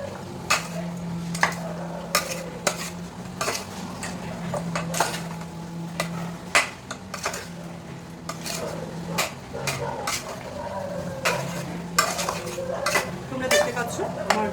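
A spoon stirs lemon-juice-marinated chicken in a metal pot, giving repeated scraping clinks and knocks against the sides in an irregular rhythm, close and moderately loud, with a low steady hum underneath.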